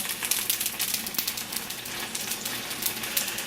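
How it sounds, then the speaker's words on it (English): Whole mushrooms sizzle and crackle steadily in a hot pan, a soft, continuous hiss with scattered pops, fairly quiet and close. "So we got whole mushrooms, sizzling, and we got lamb."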